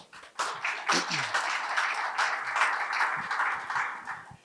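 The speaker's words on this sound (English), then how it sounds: "Let's give him a round of applause." A seated audience at a Sasol in Society masterclass on the Fourth Industrial Revolution breaks into loud, sustained applause for an arriving guest speaker, a dense wash of clapping lasting several seconds before tapering off.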